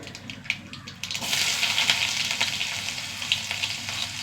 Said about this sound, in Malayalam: കുറച്ച് വെളിച്ചെണ്ണ ഒഴിച്ചു കൊടുക്കുക ചൂടാവട്ടെ എണ്ണ കുറച്ച് കടുക്